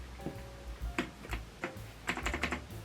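Small plastic clicks and taps come from a custom mechanical keyboard as a keycap is pried off with a puller, a few close, quiet, irregular knocks.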